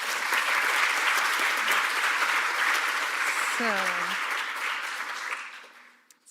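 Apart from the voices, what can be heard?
conference audience applause for the speakers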